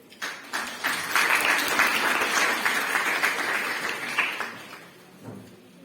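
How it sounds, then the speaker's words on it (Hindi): Audience applause at a discussion gathering for International Mother Language Day, a dense burst of clapping from a roomful of people that builds quickly, holds for several seconds, then tapers off. "तालियां हो जाए।"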